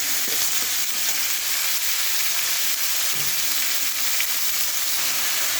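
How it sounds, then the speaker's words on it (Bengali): Cauliflower fries in a hot pan for chirer polao, giving off a loud, unbroken sizzle with a few faint scrapes of stirring and no talking. "ফুলকপিটাও অ্যাড করে দিলাম এখানে"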